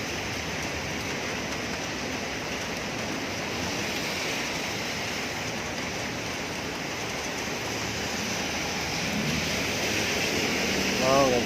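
Heavy rain pours down steadily on a street at Salinas, a dense, continuous rushing hiss that holds throughout and swells slightly near the end.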